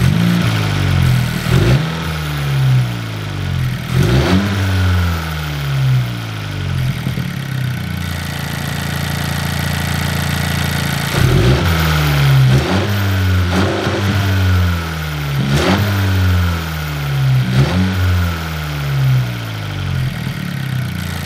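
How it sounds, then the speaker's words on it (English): Honda Civic Si with a PRL Stage 1 intake revving in sport mode: repeated rising throttle blips swelling loud and falling back to idle, plus a longer sustained hold in the middle, with no talk. "I was just revving it now in sport mode"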